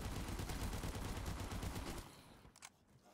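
Rapid NZ-41 rifle fire in Black Ops 3 custom zombies, a dense run of quick shots for about two seconds, then a pause and a couple of scattered bursts, moderately loud.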